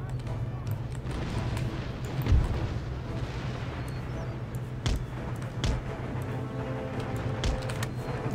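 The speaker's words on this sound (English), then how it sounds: "let's retarget my artillery" Distant cannon fire from artillery batteries in Empire: Total War, heard as a few dull booms spaced irregularly through a steady battlefield din with a low constant hum, while someone talks over it.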